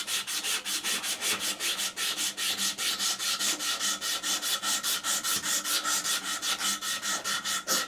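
Rapid, steady back-and-forth sanding strokes rub across a wooden saw handle being re-profiled, a rhythmic scratchy rasp repeating about four times a second, close and continuous without talk.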